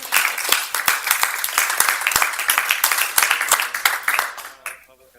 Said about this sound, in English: Now's when you should clap.